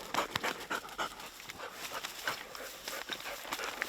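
A pointing dog pants quickly and rhythmically nearby during a capercaillie hunt in Swedish Lapland, breathy huffs repeating throughout with an occasional faint whine.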